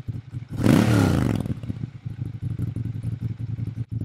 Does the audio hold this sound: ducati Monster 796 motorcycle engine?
yes